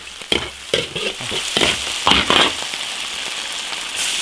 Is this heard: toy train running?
no